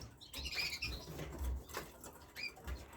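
Caged finches, including goldfinches and red mosaic canaries, flutter inside a bird shed with repeated soft wing flaps and light patter close by, and no talking.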